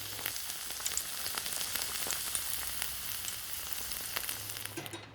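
A little butter melting in a frying pan before eggs go in, giving a steady, close hiss and crackle of sizzling with scattered pops.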